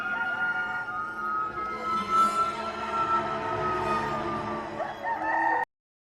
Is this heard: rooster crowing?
yes